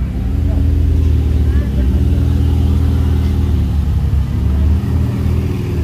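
A grey Ferrari F8 supercar drives past in a Monaco parking area, its engine droning loud and steady with a low rumble throughout, rising slightly as it accelerates.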